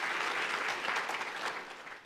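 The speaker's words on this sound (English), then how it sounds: "Would you give them a good round of applause" Congregation applauding vocalists who led bluegrass singing at a church service, a steady dense wash of hand clapping filling the whole stretch at even loudness before easing slightly at the end.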